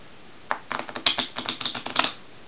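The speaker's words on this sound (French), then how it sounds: "je vais prendre le premier paquet face cachée, le deuxième paquet face visible, et je vais les mélanger ensemble comme ça" Two packs of playing cards, one face down and one face up, riffled together in a magic trick: a quick run of crisp papery flutters and snaps lasting about a second and a half, close and fairly soft, with no talking.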